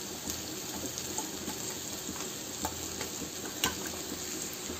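Stuffed okra fries in a pan as masala is added and stirred in. A steady close sizzle runs throughout, with soft scraping clicks from the spoon.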